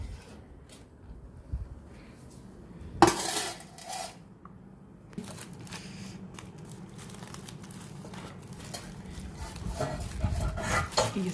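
An oven being opened and a cooking pot of steamed beef pulled out in a home kitchen, with metallic clatter of dishes and a sharp clank near the start, then steady rustling and scraping, fairly quiet and without speech.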